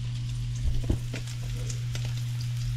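Crab cakes sautéing in a pan give a steady, close frying sizzle with a constant low hum beneath and a few soft clicks and pops; no one speaks.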